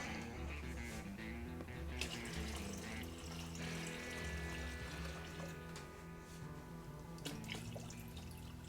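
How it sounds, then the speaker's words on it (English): Steady cold tap water pours into a jug, a soft continuous splashing with faint clinks, fairly quiet and close. "fill it to the 1-gallon mark with cold water"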